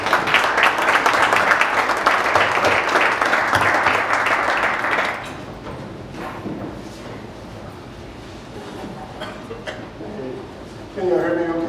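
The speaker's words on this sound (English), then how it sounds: "So please stand and give her applause and welcome her to the stage." An audience at a startup pitch event applauds a presenter taking the stage, dense clapping for about five seconds that fades into room noise before a voice begins speaking.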